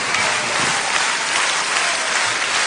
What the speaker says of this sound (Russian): Овации в зале.